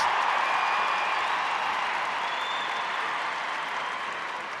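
A large crowd at a women's Six Nations rugby match between Ireland and Scotland applauds in a steady, fairly distant wash of clapping that fades slightly toward the end.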